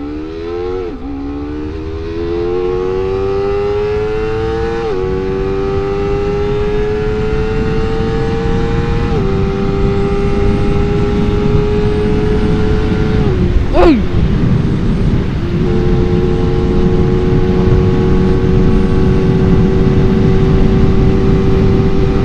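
A Honda CBR250RR SP with quickshifter in comfort mode accelerates hard on an empty road during a top speed run, engine rising in pitch through several quick gear changes to a loud sustained high-revving whine.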